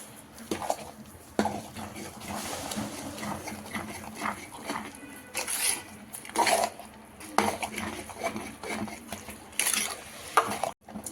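Sweet jaggery rice being mixed with smashed fresh coconut, with repeated scraping and clinking of a spoon against a metal vessel in an irregular rhythm, close by.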